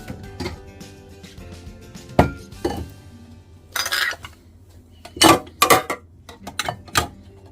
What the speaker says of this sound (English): I'm taking out a bowl from under my cupboard